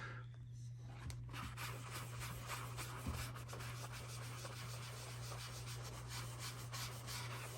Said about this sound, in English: Spray your magic eraser. Very, very gentle, light circular motion.